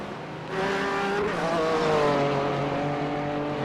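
A race car on a flying qualifying lap at night at Bathurst in iRacing, its engine note surging in and then holding a loud rising and falling whine as it works through the gears.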